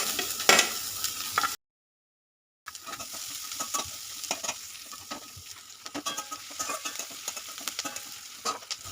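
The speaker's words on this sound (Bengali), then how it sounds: "রসুনটা কিছুটা ভাজা হয়েছে, আমি এখন পেঁয়াজটাও দিয়ে দিচ্ছি।" Chopped onion joining garlic already frying in mustard oil in a kadai, a busy close sizzle with frequent stirring scrapes and clicks after a brief silent break, continuing steadily without speech.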